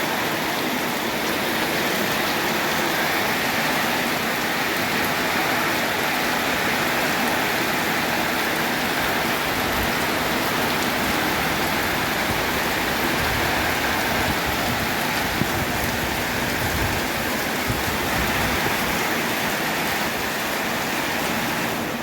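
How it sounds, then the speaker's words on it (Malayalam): Heavy rain in Goa pours steadily, a dense, loud hiss of drops on surfaces throughout, with no voices. "നല്ല മഴയാണ്."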